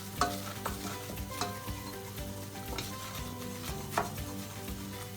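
Thick paste cooking gently in a pan over low heat for a roasted vegetable lasagne, a soft steady sizzle with occasional scrapes and taps of a utensil against the pan, fairly quiet and with no talking.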